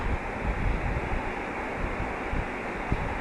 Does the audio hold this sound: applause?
no